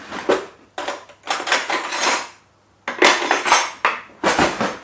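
Cutlery is rummaged through in a drawer to fetch a tablespoon, producing bursts of loud metallic clattering and jangling with short pauses between them, close up.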